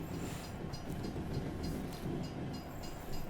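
Autorack freight cars roll by in American Truck Simulator with a continuous rumbling rail noise and soft repeating clickety-clack from the wheels, close and steady throughout.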